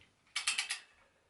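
A short burst of four quick metallic clicks, like a ratchet or wrench turning, sounds up close and quietly as the non-drive side crank arm is worked off a bicycle.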